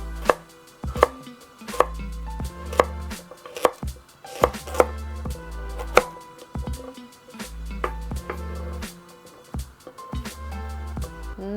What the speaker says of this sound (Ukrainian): Ось так поздовж розділяю її і нарізаю кружальцями.